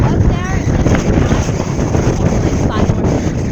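Strong wind buffeting the microphone on an exposed hill, loud rumbling gusts that rise and fall throughout, with someone speaking faintly under the roar.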